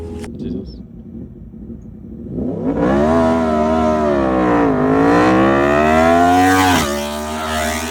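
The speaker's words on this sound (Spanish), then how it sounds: "Vamos a ensayar la MT-10 directamente contra una R1 a ver qué sucede." A reprogrammed Yamaha MT-10 motorcycle drag-races a Yamaha R1, engines revving loud and close, pitch climbing through several gear changes before easing off near the end.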